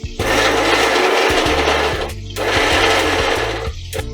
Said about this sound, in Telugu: మనం ఇందాక ఏవైతే ఉల్లిపాయలు పచ్చిమిరకాయలు చూపించామో వాటిని ముక్కలుగా కోసుకుని మిక్సీ పట్టుకోవాలి.